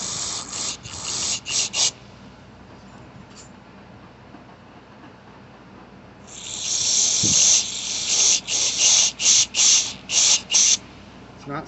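A spray nozzle rinses a boiled-out carburetor part from a Craftsman push mower with a Briggs 5.50 engine, giving sharp hissing bursts in short repeated pulses, quieter early and then longer, louder spraying, with no voices.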